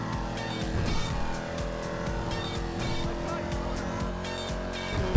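Car engine in Grand Theft Auto V driving through traffic, a steady loud motor roar with passing-vehicle swells and brief tire noise, continuous for the whole stretch with no talk over it.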